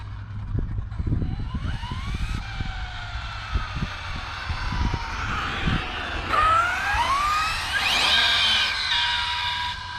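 An Arrma Felony 6s RC car's electric motor whines up in rising and falling pitch sweeps, loud and close, with scattered clicks and knocks early on and no talking.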